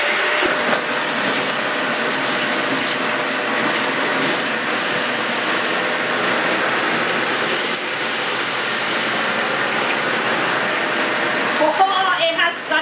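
A carpet vacuum cleaner roars continuously at close range, a steady high whine with airy hiss, dropping briefly near the end.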